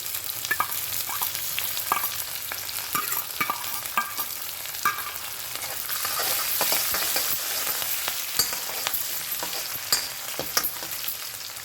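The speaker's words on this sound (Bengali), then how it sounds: "রসুনটা দেখো ভাজা হয়ে গেছে যেহেতু ঘিটা গরম হয়ে গেছিল" Chopped garlic, green chilli, cardamom, cloves and cinnamon fry in hot ghee for dhaba-style dal, with a steady sizzle broken by frequent spoon scrapes and clinks from stirring, and no voices.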